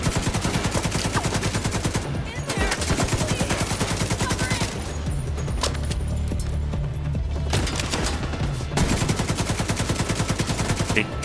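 Enemy gunfire in The Division 2 crackles in long automatic bursts, dense and steady for the whole stretch, with brief thinning gaps before the rapid firing resumes; no one talks over it.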